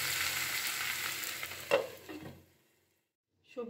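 Mixed vegetables frying in a pan for Bengali village-style amudi fish chorchori. A loud, close, steady sizzle with a sharp stirring scrape fades to near silence, then a brief clatter returns at the end.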